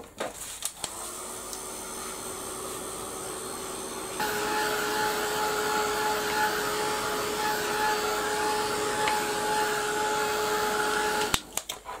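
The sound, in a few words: heat gun blowing hot air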